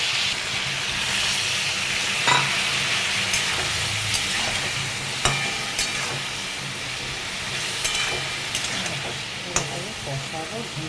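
Drumsticks (moringa), potato and eggplant fry in a pan, giving a continuous close sizzle and hiss with occasional sharp clinks of a spatula stirring against the metal.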